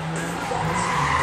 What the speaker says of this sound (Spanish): Ahí está Fede cruzando el coche